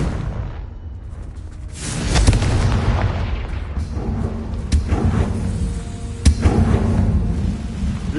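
Confringo, a fire spell in Hogwarts Legacy, sets off loud booming blasts over a dense, continuous rumble, with a sharp burst near the start and another sharp hit toward the end.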